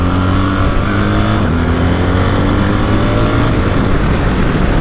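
BMW R1300GS boxer-twin motorcycle accelerating hard, a loud close engine note climbing steadily in pitch through the revs, with strong wind roar and no talking.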